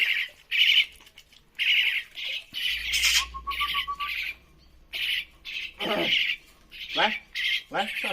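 Two young mynah birds in a cage give loud, harsh squawks in repeated bursts and flap against the bars during hand-taming training. A person talks between and over the calls.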